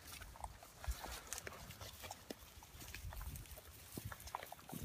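Pigs feeding on barley fodder outdoors, with faint scattered grunts, snuffling and chewing noises over quiet background, no talk.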